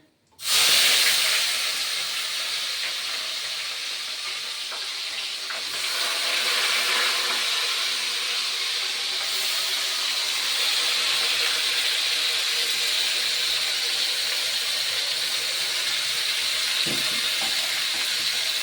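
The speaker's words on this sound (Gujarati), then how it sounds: "હવે આપણે ડુંગળીનો વઘાર દઈ દઈએ" Onions hit hot oil for a Gujarati vaghar and hiss loudly right away, settling into a steady, close sizzle that continues unbroken.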